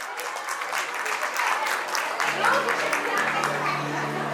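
An audience at a preschool annual day gives a round of applause, a crowd of hands clapping steadily at a moderate level, with musical tones and voices entering toward the end.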